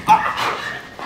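A military working dog barks once sharply near the start of controlled aggression apprehension training, followed by a sustained whining, yelping vocalization with some background voice noise.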